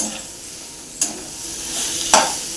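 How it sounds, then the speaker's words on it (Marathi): Ground chana dal fries in hot oil with a soft continuous sizzle while a utensil scrapes and stirs the pan, giving two sharper scraping strokes over the steady hiss. "आता आपण ह्याच्यामध्ये टाकायची वाटलेली डाळ चांगलं आपण तेलावर आपण परतून घ्यायचंय"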